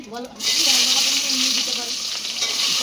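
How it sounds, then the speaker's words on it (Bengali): Cumin, dried chili and bay leaves tempering in hot oil in a home kitchen, a loud, steady sizzle that surges in after a short opening and continues with faint voices beneath. "ফোড়ন দিয়ে দিচ্ছে সব জিরা, শুকনো লঙ্কা, তেজপাতা ফোড়নে দিচ্ছে"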